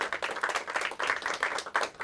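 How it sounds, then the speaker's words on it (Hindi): Steady applause from a crowd, dense clapping with rhythmic swells lasting about two seconds at moderate loudness. "जोरदार तालियां हो जाए टीम कबीर के लिए।"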